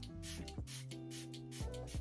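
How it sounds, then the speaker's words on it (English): Makeup setting spray is misted onto a face in several quick, hissing bursts, close and fairly soft, with steady background music underneath. "So I spray this, and this helps to kind of melt all the makeup together and make it go seamless"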